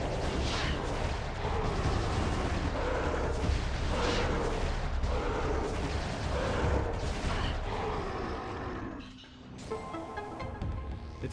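Missiles fired in Metroid Prime 2: Echoes, a continuous stream of heavy booming blasts and rumbling impacts that ends in a brief lull before the mechanical game sounds resume, with no voices.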